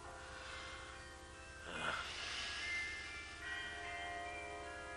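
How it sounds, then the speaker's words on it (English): Distant church bells keep ringing faintly with a soft, sustained tone, while a brief whooshing rustle rises over them partway through. "I love the bells."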